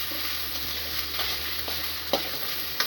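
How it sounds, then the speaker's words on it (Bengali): Gobindobhog rice grains toast in a pan for a muri ghonto dish with a steady, even sizzle, close and moderately quiet, with a few faint stirring clicks. "তারপরে গোবিন্দভোগ চালগুলি দিয়ে ভালোভাবে লাল লাল করে ভেজে নেব।"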